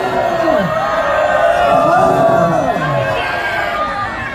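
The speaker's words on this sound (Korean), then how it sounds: "그래서 여기서 함성 한번 하겠습니다" A protest crowd of right-wing groups outside the People Power Party headquarters shouts together in unison. The loud, sustained mass of voices rises and falls without a break.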